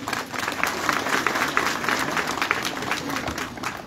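A church congregation claps in steady, dense applause throughout, fairly close and even.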